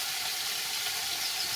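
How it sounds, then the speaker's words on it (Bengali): Fish fries in a pan of hot oil, giving a continuous, even sizzle that hisses at close range with no voices over it. "ভালো করে ভেজে নেবো মাছটা।"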